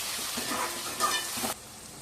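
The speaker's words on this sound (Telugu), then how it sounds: "2 టమాటాలను కట్ చేసుకొని ఇందులో వేసేసుకున్నాను. టమాటాలు కూడా బాగా మగ్గాలి" Chopped tomatoes cook down in a pan for a fish curry with fenugreek leaves, giving a faint, steady hiss and quiet sizzle that briefly swells and then drops back.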